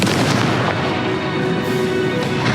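Explosive Confringo spell in Hogwarts Legacy, a loud, rumbling run of booming, gunfire-like blasts with no pause, dense and close.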